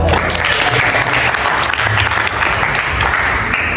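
Students in a vocational school classroom clap together after correct answers in a vernier caliper lesson, a steady, close burst of many hands.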